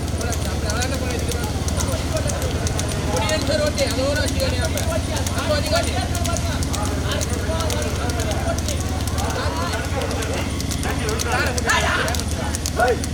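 Bullock cart race at a Pongal festival, with bulls' hooves pounding in a fast, continuous clatter beneath loud, constant crowd shouting and commentary.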